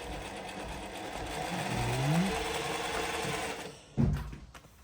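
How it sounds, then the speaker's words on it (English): A Juki LZ-271 zigzag industrial sewing machine doing freehand Irish embroidery runs in a steady, fast mechanical whir close by, then slows and stops with a soft thump near the end. "This is made in Japan sewing machine."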